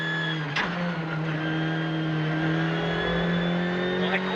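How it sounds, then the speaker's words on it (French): A rally car engine held at full throttle with the handbrake pulled at the Rallye Rhône Charbonnières 2023, giving a loud, sustained, steady drone heard close up from inside the car, with no talk. "je tiens le frein à main, j'accélère à fond"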